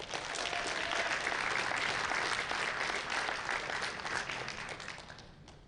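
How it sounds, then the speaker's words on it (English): Sustained audience applause rings out for a powerlifting gold medal winner at a national championship meet, dense steady clapping that holds strong for several seconds before gradually thinning out. "Big round of applause, ladies and gentlemen, for Ted Longo."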